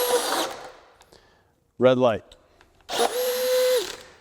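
A DeWalt DCD801 cordless drill whirs at close range, stops abruptly, then starts again with a steady high whine while boring into wood. A brief spoken phrase falls in the quiet gap between the two runs.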